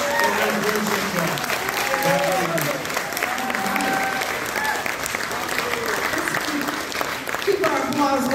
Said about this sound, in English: Keep our applause going as our children from the harvest come out.